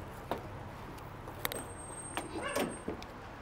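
The heavy hood of a 1966 Buick Skylark being opened: a few metallic clunks and a creaking latch and hinge sound, fairly quiet and close, with no talk.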